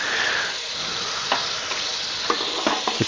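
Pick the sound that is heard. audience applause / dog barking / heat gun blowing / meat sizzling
meat sizzling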